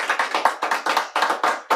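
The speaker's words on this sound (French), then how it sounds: "J'entends des applaudissements." Hand clapping at an evening couples-game event: a close, rhythmic series of about a dozen sharp claps in quick, slightly uneven bursts, with no talking.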